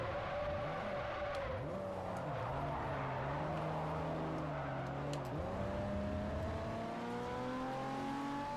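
A race car engine revs continuously in Forza Motorsport 4, its pitch climbing and dropping with gear changes while tires squeal and skid, loud and steady throughout.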